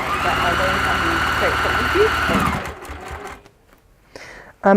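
A sewing machine runs a quarter-inch seam around the top of a textile piece, a fast steady mechanical whir for about two and a half seconds before it stops, followed by quieter handling sounds.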